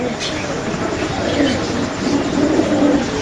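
Spanish pigeons, kept in a cage at a pigeon seller's, softly coo amid steady background noise and murmuring voices.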